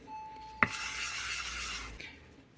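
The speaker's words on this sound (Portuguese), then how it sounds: "Agora eu vou passar uma outra lixa, já está mais desgastada. Ela é 180" A fuel tap part from a GS500 motorcycle is sanded with worn 180-grit sandpaper, a sharp scrape opening a soft, continuous rasping stroke of about a second and a half, close and quiet.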